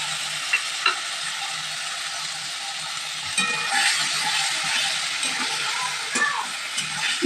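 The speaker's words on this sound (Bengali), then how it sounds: "ভেন্ডি ভাজা হয়ে যেতেই এখানে দই আর মশলা দিয়ে যে মিশ্রণটা তৈরি করে রেখেছিলাম সেই মিশ্রণটা দিয়ে দিচ্ছি" Yogurt and spice mixture hits frying okra in a hot pan, giving a loud steady sizzle with scraping stirring strokes and occasional clinks of the utensil throughout.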